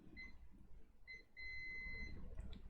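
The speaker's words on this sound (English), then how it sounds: "if I short the probes, we get a beep." A multimeter in diode mode gives a short beep, then a longer steady tone as its probes are shorted, both high-pitched and electronic over a quiet low hum, during a Dell Optiplex power supply repair.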